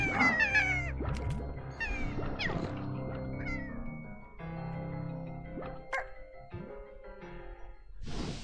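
A cartoonish cat meow effect from Slime Rancher 2 repeats in a string of short, bright calls over soft game ambience and chimes, fairly close and clear, with no talking.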